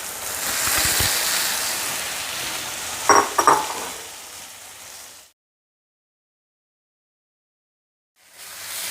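Tomatoes and capsicum sauté in a pan for a Tamil capsicum gravy, a soft steady sizzle with a couple of brief stirring clinks, then the sound cuts out before returning at the end.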